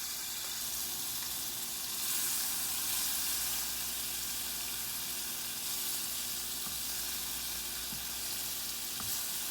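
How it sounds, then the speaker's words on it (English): Butter melts in a frying pan with a faint, even sizzle and soft hiss that holds steady throughout, with no talking. "we'll add butter to the pan"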